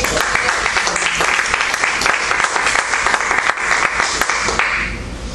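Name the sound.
congregation applauding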